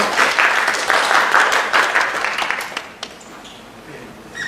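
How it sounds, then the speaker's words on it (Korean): An audience at a lecture on patent-focused use of research results gives brisk applause that fades after about three seconds, leaving a quiet room with a few stray sounds. "박수 부탁드립니다"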